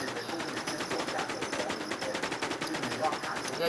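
Sustained rapid automatic gunfire in a first-person shooter, steady rattling bursts at moderate level running the whole time, with a voice talking over it.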